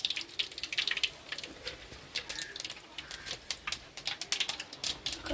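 Mustard seeds crackling and popping in hot oil while squid gravy is cooked, a dense run of sharp, irregular snaps and sputters, close and steady, with no talking.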